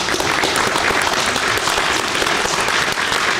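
Loud, dense clapping from a group celebrating a colleague's birthday during an accounting firm's meeting, sustained at a constant level with no voices over it.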